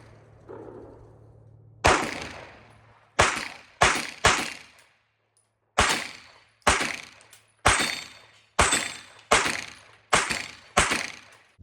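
A SIG P320 Specter Comp pistol fitted with a Harrington Arms compensator fires about ten sharp, loud shots in an uneven rhythm, each crack ringing out briefly, with no talking.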